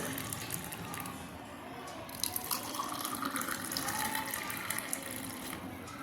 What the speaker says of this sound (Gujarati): તો હવે આપણે દ્રાક્ષનો જ્યુસ ગ્લાસમાં લઈ લઈશું